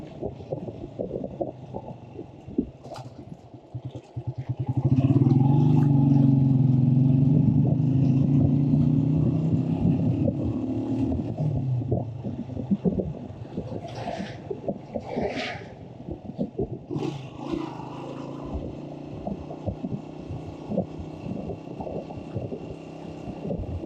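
A solo rider's motorcycle climbs a broken, rocky mountain road in Pakistan's northern areas near Booni. The engine drones steadily, swelling louder for several seconds, with wind rush and road rattle throughout and no talking.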